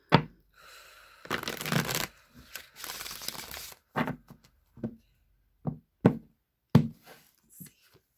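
A tarot card deck is shuffled close up: a couple of longer riffling bursts followed by several short, sharp taps as the cards are squared and knocked together, with no talking.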